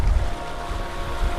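A sailboat running under a scrap of foresail in a 30-knot breeze on the North Sea, with wind rush and water surging against the hull, loud and close throughout, no voices.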